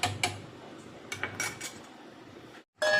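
A spoon scrapes and clinks against a pan while thick mango paste is stirred, in short irregular strokes that are close and fairly quiet, with a brief silence near the end.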